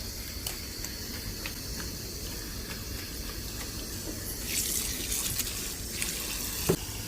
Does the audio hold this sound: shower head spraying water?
yes